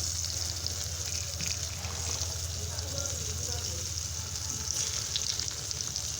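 Raw jackfruit slices fry in soybean oil over medium heat, giving a continuous, even sizzle and crackle close by, with faint movement in the pan.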